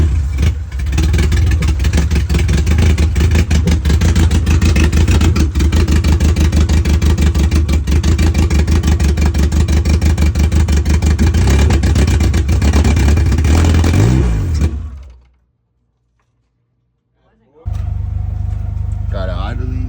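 A loud Integra engine with a B20V swap, burning oil from leaking valve cover gaskets, revs hard and steadily for about fifteen seconds, cuts out briefly into near silence, then rumbles back to life.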